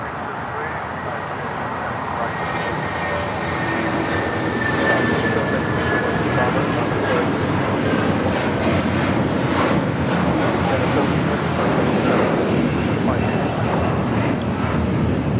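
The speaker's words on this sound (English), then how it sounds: "This is United Airlines Flight 1700 taking off to Newark on the 757-200." A United Airlines Boeing 757-200 takes off at LAX bound for Newark, its jet engines a broad, loud roar that builds and holds steady, while a voice talks over it.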